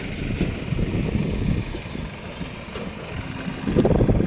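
A JCB tractor's diesel engine idles with a rough low rumble, growing a bit louder near the end, no voices present.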